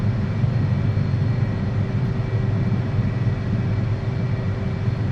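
A jet in the DCS flight simulator rolls out after touchdown under maximum braking, its engine and rumble a steady, loud drone with a faint whine held throughout.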